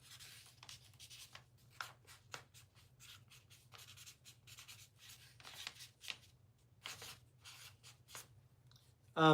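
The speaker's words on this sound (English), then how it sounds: "I'll write that down for you." Pen scratching across paper during a live piano-music stream, a long run of short quiet strokes in uneven bursts, close-miked over a low steady hum, with no talking.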